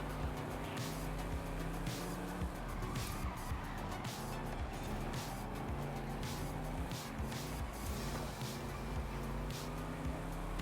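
Several BMW cars racing in the Forza driving game, with steady engine drone and periodic sharp bursts as cars pass or shift, a continuous loud mix of engine and tire noise.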